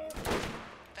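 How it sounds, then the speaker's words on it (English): Gunfire in the video game Borderlands during a firefight, a burst of broadband shots clustered around the middle of a one-second span, loud and close with a quick tailing decay. "Someone else is shooting me."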